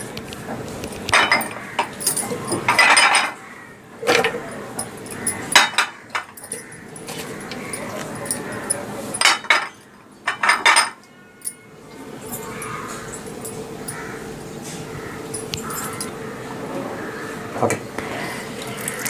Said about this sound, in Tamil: இப்போ நம்ம எடுத்து வச்சிருக்கிற எல்லா பொருளையுமே வந்து மிக்ஸி ஜாருக்குள்ளே சேர்த்துடலாம்.